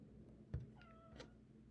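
A cat gives a short, faint meow close by in a quiet room, preceded by a soft thump, with no talk.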